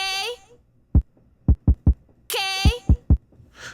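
Kick drum sample played on a pad in Logic's Drum Machine Designer, a series of short, punchy low thumps in uneven rhythm, with a voice talking briefly before and between the hits.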